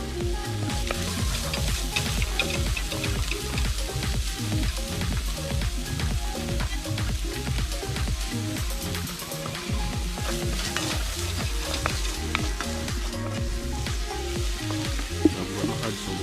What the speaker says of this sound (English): I'm using some ginger, scallion, garlic. Just sauteing them for about 30 seconds.